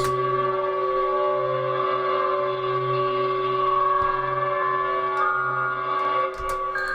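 A steady synthesized drone with a metallic, gong-like ring and layered sustained tones, a low pulsing hum beneath, fading slightly near the end.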